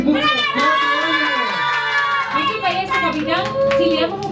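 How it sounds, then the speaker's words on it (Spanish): A small group claps for a four-year-old's Avengers-themed birthday, the claps mixed with excited children's shouts and a voice talking over the top throughout. "un aplauso para Facundo Kipu"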